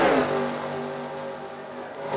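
Race cars in an iRacing sim race, a Dr. Pepper Sim Series event at the Walgreens 250, droning steadily in a pack with a sustained engine tone, louder at the start and end, no talk.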